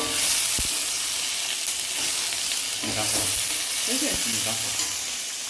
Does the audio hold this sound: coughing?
no